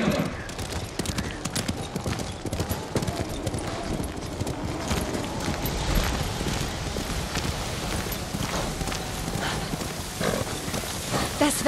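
Horse hooves clip-clopping in a steady rhythm while riding through snowy weather in the video game Ghost of Tsushima, loud and continuous with wind and game ambience underneath.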